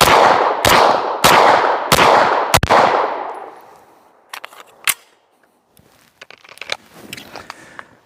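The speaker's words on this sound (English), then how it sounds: "So I got 6 seconds to draw and fire 5 to the head." A Walther PDP pistol fires five loud, sharp shots in quick, even succession, followed by quieter clicks and handling clatter.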